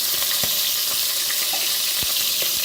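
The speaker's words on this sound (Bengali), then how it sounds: "মুরগিটা আমি অবশ্যই এইভাবে দিয়ে দিচ্ছি যাতে মুরগিটা দ্রুতভাবে ভাজা হয়ে যায়" Desi chicken frying in a pan: a continuous dense hiss punctuated by a few soft knocks and pops, fairly close and even in level.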